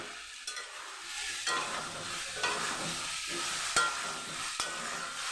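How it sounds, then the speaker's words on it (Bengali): A potato and soybean curry is stir-fried in a pan with a continuous sizzle and occasional sharp scrapes from the spoon, close up. "এবার আমি এটাকে একটু কষাবো আলু সয়াবিনটাকে ভালো করে কষিয়ে নেবো"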